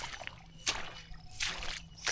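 Footsteps wading through water and mud in a weedy rice paddy field, with three soft sloshing splashes spaced about a second apart over a quiet outdoor background.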